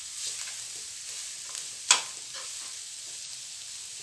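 Rice is stirred into a pan of frying sausage, giving a steady sizzle with soft scraping strokes and one sharper clack partway through, close and without talk.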